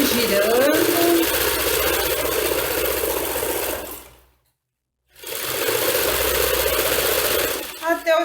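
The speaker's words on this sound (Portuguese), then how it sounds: "E agora eu vou costurar em volta." Domestic sewing machine stitching around the edge of a small fabric doll, a steady close whirring hum that runs for several seconds, stops briefly, then resumes.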